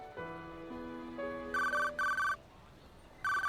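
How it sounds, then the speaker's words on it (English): Cell phone ringtone from the video game 428 Shibuya Scramble: a bright electronic trilling ring in repeated bursts, cutting in over a soft sustained musical tone, loud and close with brief gaps between rings. "Unexpectedly, his cell phone rang."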